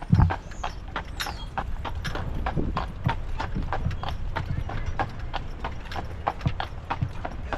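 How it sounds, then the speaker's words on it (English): Steady clip-clop of horse hooves on pavement as a horse-drawn carriage rolls along in Northern Michigan, with rumbling wheels and faint voices in the background. "So we decided to drive our own horse-drawn carriage."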